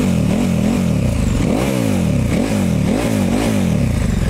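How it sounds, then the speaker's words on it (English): A KTM 1290 Super Duke R with an SC Project exhaust and the dB killer removed, revved repeatedly in short blips that rise and fall, loud and close with a raspy, crackling pipe note. "Now you can hear more of the engine and the pipe at the same time."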